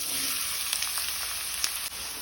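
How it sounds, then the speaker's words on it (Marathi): Finely chopped onions fry in oil over a medium flame for a biryani gravy, giving a steady bright sizzle with a few soft stirring scrapes and clicks, no voices. "मिडियम फ्लेमीचेर कांदो आमकां बरो तळसून घेवपाक जाय।"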